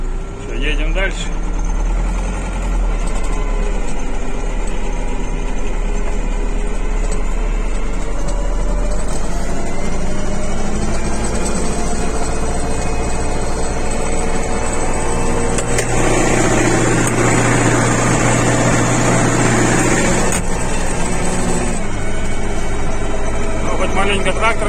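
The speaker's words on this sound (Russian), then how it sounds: "Трактор нагрелся." An MTZ-82 tractor engine drones steadily and loudly throughout in snow, a low rumble with rising and falling harmonics, labouring nearby, with occasional voices over it.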